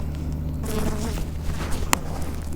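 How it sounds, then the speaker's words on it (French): A bee trapped inside a motorcycle helmet while riding in Panama, giving a close, continuous insect buzz over steady road and engine rumble, with a brief sharp click near the end. "Une abeille."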